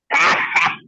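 A single short cough that sounds put on, voiced and breathy with a throat-clearing quality, close and moderately loud, with a brief second push near the end.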